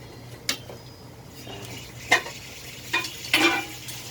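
Onion and garlic sautéing in a pan, a soft, steady sizzle with a few sharp clinks and scrapes of a utensil against the pan, close by.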